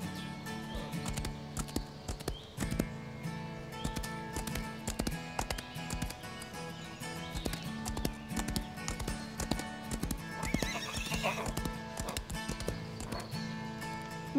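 A horse gallops in Star Stable Online, its hooves beating a quick, steady clip-clop as it runs and jumps fences, over a background of soft game music.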